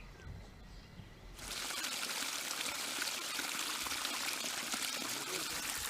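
Water pours into a forest reservoir at a wildlife sanctuary. After a quiet second it starts suddenly as a steady, bright splashing stream that stays loud and close to the end.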